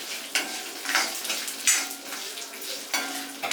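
Dried red chillies fry in hot oil for a Malayalam ladies finger and gooseberry dish, giving a steady crackling sizzle with a few louder pops and bursts of stirring throughout.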